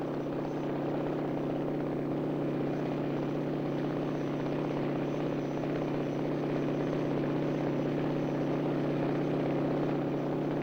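Rotor and engine of a 1956 McDonnell XV-1 convertiplane in flight drone steadily and evenly, a constant low mechanical hum with a faint whine that holds without change from start to end.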